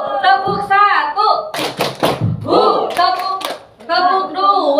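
A rhythmic clapping pattern, the first of a set, led for a group of teachers: a quick cluster of sharp hand claps in the middle, with someone talking before and after.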